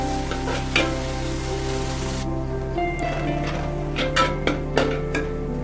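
Crushed garlic and ginger sauté in a pan with a constant sizzle under a steady background hum. A few spatula scrapes and clinks come near the end, close by, and no voices are heard.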